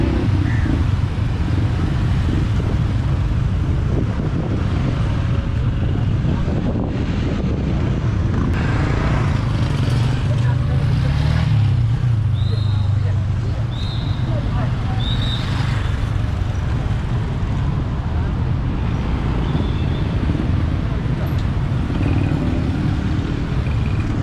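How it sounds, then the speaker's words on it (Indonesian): An old motorcycle rolls past outside a large mosque after Friday prayers, its engine rising over steady road traffic and wind noise while people talk. "motor zaman dulu ya."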